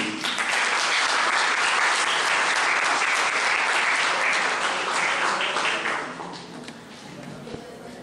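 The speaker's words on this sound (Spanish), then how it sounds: "pido fuertes aplausos" A lecture audience at a political science week applauds loudly, a thick continuous burst of clapping that holds steady before thinning and fading near the end, with no voices over it.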